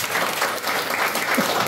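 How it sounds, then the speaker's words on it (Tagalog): A church congregation breaks into steady, dense clapping in praise to God, the applause filling the room evenly and continuously without any voices standing out. "Isang palakpak sa Panginoon."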